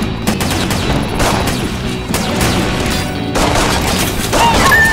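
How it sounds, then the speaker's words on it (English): Gunfire from the VR shooter The Arcslinger rings out in dense, rapid bursts with booming impacts and crashes, loud and continuous across the whole stretch with a musical score underneath. "Pretty good shooting, Dater."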